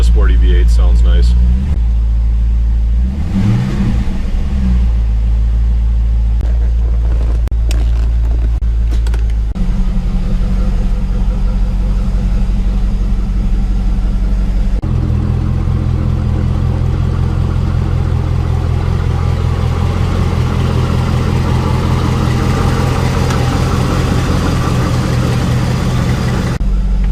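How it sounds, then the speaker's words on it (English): A C4 Corvette V8 runs in a single-car garage, first revving unevenly and then settling into a loud, steady, deep idle that continues close by for the whole stretch. "Man, a sporty V8 sounds nice."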